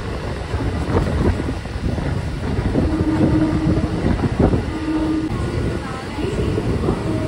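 A local train departs Shyamnagar station on the Katwa to Sealdah line, its steady rumble on the rails swelling and easing, with brief tonal squeals and a few sharp knocks along the way.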